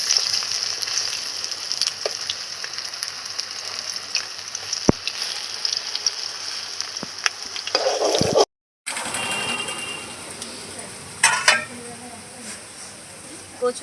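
Taro flower fritters fry in oil with a constant close sizzle and light crackle. A brief dropout comes partway through, then sharper spattering returns near the end.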